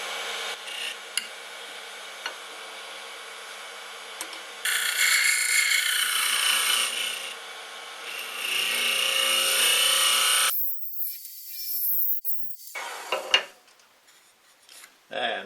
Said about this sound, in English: Just a little negative rake scraper here.